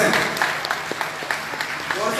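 Audience clapping at a Srimad Bhagwatam religious gathering, a fairly soft, uneven patter of hands with sharp individual claps standing out across the short stretch.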